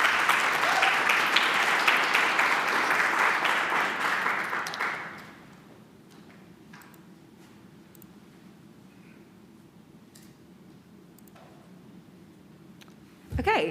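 Audience applause at an honors conference after a biochemistry student's introduction, a loud even burst of clapping for about five seconds that stops abruptly, followed by quiet room tone.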